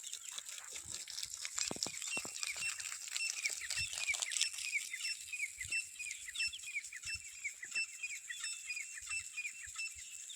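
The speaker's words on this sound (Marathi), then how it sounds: "तितर पक्षी जागी झालेला आहे तो त्याच्या साथीदारांना आवाज देत आहे" Repeated high, squeaky partridge calls ring out at dawn over a quiet rural farm background with sprinklers, moderately distant, with faint patter and occasional low thumps.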